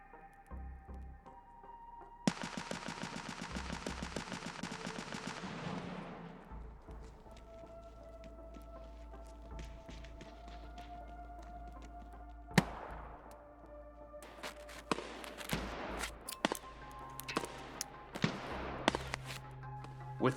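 Gunfire and grenade launcher blasts in the video game Escape from Tarkov, a loud burst of rapid shots followed by scattered sharp cracks and distant explosions over a low ambient hum.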